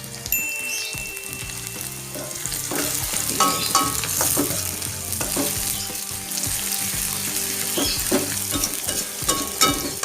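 Green onions fry in hot oil in a pan for homemade chicken noodles, giving a steady, dense sizzle and crackle with scraping spatula stirs throughout, close and continuous with no talking.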